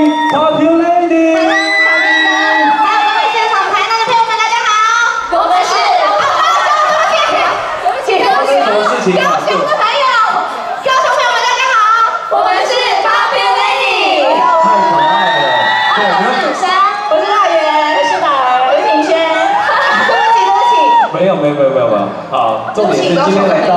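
Fans at a concert signing event in Kaohsiung scream, whoop and cheer loudly and continuously as a dense, close crowd with mixed shouting voices.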